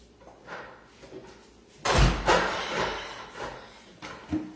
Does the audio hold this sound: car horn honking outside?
no